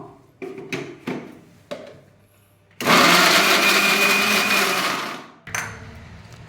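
A mixer grinder whirs loudly for about three seconds, blending washed tamarind and tomato into a smooth paste for tomato chutney, preceded by several short knocks and taps and followed by a brief restart burst.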